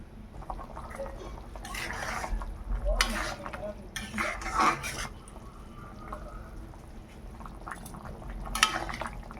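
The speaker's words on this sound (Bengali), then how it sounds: "জল ফুটে গেছে এবার মাছগুলো দিয়ে দেবো" Water bubbles in a pot for a thin rohu fish curry with potato and Malabar spinach stems, a low simmering churn broken by louder bursts of stirring and clatter, with some background voices.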